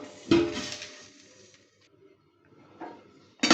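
A lid is set onto a cooking pot of mango chutney: a loud metallic clatter at the start that fades over about a second, then softer knocks and a final sharp clink near the end.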